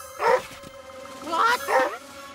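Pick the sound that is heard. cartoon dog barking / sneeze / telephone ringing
cartoon dog barking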